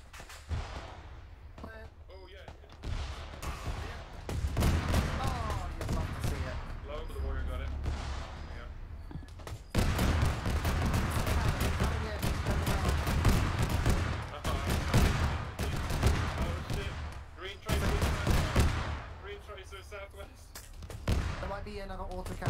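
Autocannon fire aimed at a tank in ArmA 3, a combat game, comes as repeated heavy gunfire bursts amid a dense battle soundscape of shots and blasts, with players talking over it throughout.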